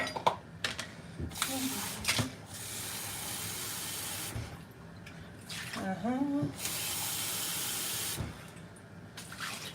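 Water runs from a kitchen tap into a small bowl holding a potato, a steady rushing stream in bursts with pauses, close and fairly loud, while a person talks between the flows.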